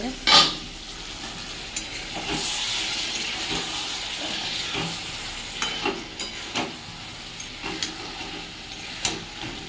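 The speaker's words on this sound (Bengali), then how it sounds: "এভাবে একটু ভালো করে নাড়াচাড়া করে নেব" Egg and taro curry being stirred in a hot pan, a constant close sizzle and hiss with repeated spoon scrapes and taps against the metal at an irregular pace.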